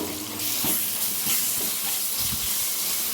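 Mint, ginger, garlic, turmeric and salt frying in a pan, a dense, steady hissing sizzle close by with a few soft stirring knocks.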